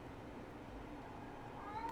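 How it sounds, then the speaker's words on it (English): A house cat gives a short, faint meow in the background at the very end, a brief rising cry over a low steady room hum. "So that's my cat in the background"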